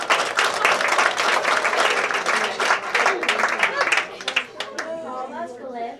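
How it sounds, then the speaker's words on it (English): Loud, dense crowd applause for an award winner at the 2018 FedFem Awards, steady for about four seconds before thinning out, with a few voices and cheers rising near the end. "Give her a round of applause."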